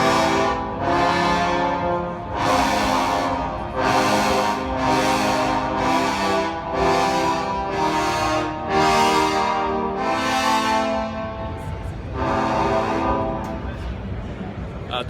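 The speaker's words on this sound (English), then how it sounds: "a very specific ensemble out of 3 bass trombones instead of using 2" Three bass trombones play marcato in unison, a run of about nine heavy, separated accented blasts followed by a longer sustained note, loud and close with no talking.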